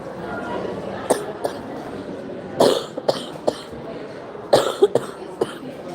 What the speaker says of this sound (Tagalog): Grabe ang aking ubo